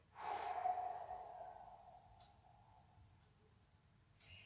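A single strong exhale during a yoga breathing exercise with the head lowered, a close, breathy rush of air that fades out, followed by quiet with a faint breath at the end.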